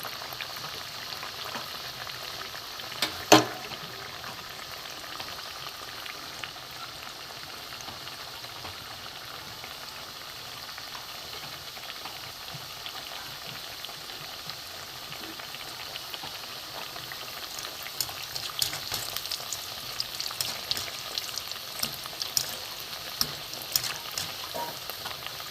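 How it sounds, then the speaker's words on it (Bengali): Milk and semolina cooking slowly in a pan over a low gas flame, a soft, even bubbling sizzle throughout with one sharp tap early on and faint crackling pops later. "লো ফ্লেমে আস্তে আস্তে ভাজতে হবে।"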